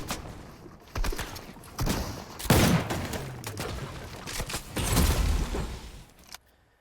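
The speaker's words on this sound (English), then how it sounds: "he shoots out one of the floors with the AUG" AUG rifle fire from Rainbow Six Siege as a floor is shot out: repeated loud bursts of close gunfire with a crumbling, mechanical clatter between them, ending in sudden quiet.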